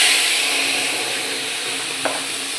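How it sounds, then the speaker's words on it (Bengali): Spices frying in oil in a pan with salt and turmeric as a dish of ash gourd is cooked for lunch, giving a steady soft sizzle with a brief stir or scrape near the end. "মশলাটা একটুখানি ভাজা ভাজা করে স্বাদ মতো লবণ, স্বাদ মতো হলুদ দিয়ে দিলাম"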